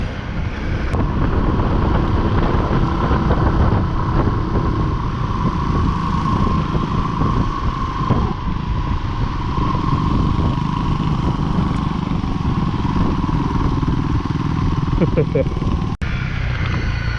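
Dual-sport motorcycles, a CRF Rally, WR250 and KLR250, ride onto a dusty gravel road in New Zealand, their engines droning steadily and loud under heavy wind rush for the whole stretch.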